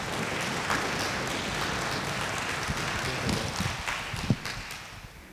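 An audience applauds performers at a concert: about five seconds of steady, moderately loud clapping from a crowd, with a few sharper individual claps near the end and no talk.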